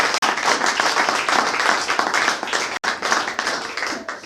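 A church congregation applauds steadily for several seconds, producing a dense, sustained wash of many hands clapping with no voices standing out.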